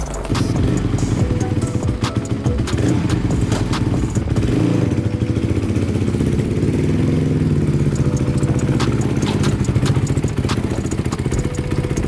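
Honda TRX450r quad engine running steadily while riding, a loud, continuous mid-pitched engine drone with clattering mechanical texture throughout, close up.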